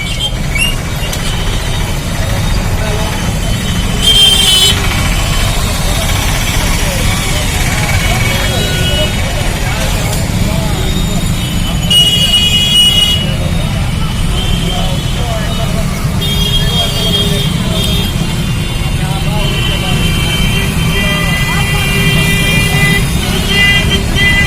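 Busy street traffic in Siwan, India, with long queues of vehicles and crowds on the road: a steady roar of engines with scattered horn toots, loud and continuous beneath a reporter's talking.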